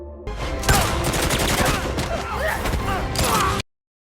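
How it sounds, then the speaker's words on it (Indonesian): A film shootout erupts into a dense, loud fusillade of gunfire as more men open fire, with rapid overlapping shots and bursts that run nonstop before cutting off abruptly to silence. "Lebih banyak pria yang melancarkan tembakan, jadi ia berlindung di balik tubuh musuh sambil membalas tembakan"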